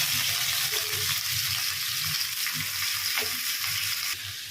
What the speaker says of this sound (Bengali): পেঁয়াজটার উপরে একটু নুন দেওয়া হচ্ছে যাতে তাড়াতাড়ি পেঁয়াজটা ভাজা হয়ে যায়।